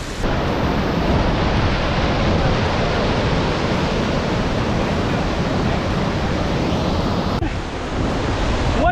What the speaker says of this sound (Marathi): फायनली नानेमाची वॉटरफॉल समोर पोहोचलो